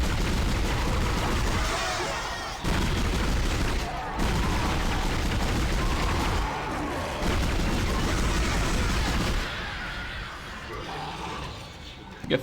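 Pulse rifle fire in the sci-fi horror game Dead Space, rapid bursts of gunfire in a dense, loud combat mix with a voice talking over it, tapering off near the end.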